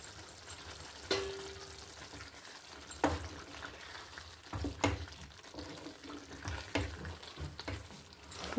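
A spoon stirs ground coriander masala into prawn curry in a pan, giving soft scrapes and knocks against the pan over a low, continuous sizzle.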